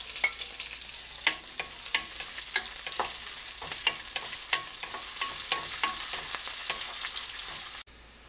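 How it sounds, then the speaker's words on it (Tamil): Sliced onions sizzling in hot oil in a pan for Madurai-style mutton biryani, a steady close fry broken by regular scraping stirs of a spoon before cutting off abruptly near the end. "வெங்காயம் நல்லா வதங்கிருச்சு."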